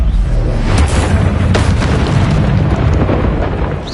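A Bombarda blasting spell erupts in Hogwarts Legacy, a loud, sustained booming explosion with rumbling low end and a few sharp bursts layered through the roar, no speech.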